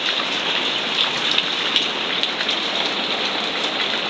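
A steady downpour roars close by, countless raindrops pattering hard on surfaces in a continuous wash of sound, with no one speaking.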